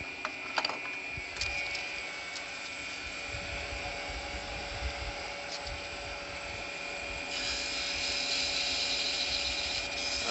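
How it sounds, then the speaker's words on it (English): Sandpaper held against a small wooden Christmas tree ornament spinning on a lathe gives a steady, fairly quiet abrasive hiss over the motor's hum, brightening near the end. "Anytime you're sanding on here, you want to make sure this tool rest is either taken away or pulled way back. Just keep that sandpaper moving."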